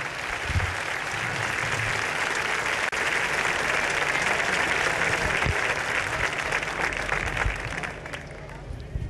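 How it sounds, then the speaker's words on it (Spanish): An audience applauds the host bagpipe band from Candás at a bagpipe band festival, with dense, sustained clapping and crowd noise filling the whole stretch before easing slightly near the end. "Un aplauso para la banda de gaites anfitriona de este"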